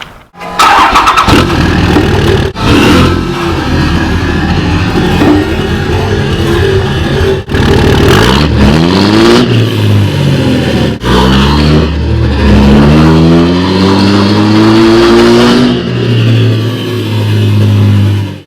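2005 Cummins diesel pickup truck engine being cranked and revved, starting with sharp bursts, then rising and falling throttle sweeps over a rumbling idle, very loud and close, no talk.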